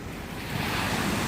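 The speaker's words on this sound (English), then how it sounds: "Nice bit of white water forming as it's crashing over that sandbank there." Waves break with white water over a sandbank on a sunny day, a steady, close rush of surf mixed with wind noise on the microphone, no voices.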